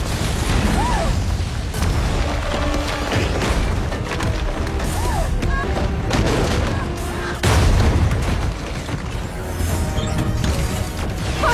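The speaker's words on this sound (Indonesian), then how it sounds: "kekuatan dari bom ion tersebut yang mampu meratakan" An ion bomb detonating in a science-fiction film, heavy booming blasts and crashing rumbles with a loud surge partway through, layered with dense film sound effects.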